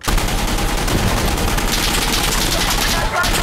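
Dense gunfire rattles through a firefight in the shooter game Insurgency Sandstorm: continuous rapid automatic bursts, loud and close, with barely a break over the whole stretch.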